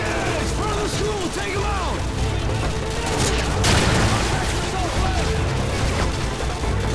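Dense video game firefight during a Modern Warfare 2 match, with an RPG rocket launcher fired among continuous gunfire, booms and mechanical clatter. A loud blast swells near the middle, and voices talk over the chaos.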